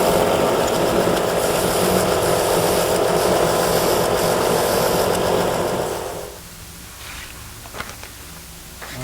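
Steady, loud rasping of a file or sandpaper against a wooden zither bridge, rounding its ends, continuous for about six seconds before dropping to quieter scattered scrapes.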